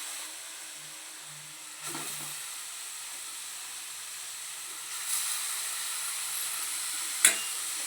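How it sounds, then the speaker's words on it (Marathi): Grated beetroot sizzling in hot ghee for a halwa, a soft continuous hiss with a few faint clatters of utensils. "तूप गरम झालं की आपण त्यात हे किसलेले बीट टाकून घेणार आहोत"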